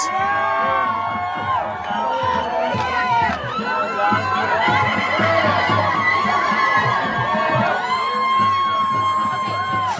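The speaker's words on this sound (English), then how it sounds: "they're excited. They're cheering." A crowd cheers and whoops with excitement, loud and close, with mixed shouting voices, chatter and high yells overlapping throughout.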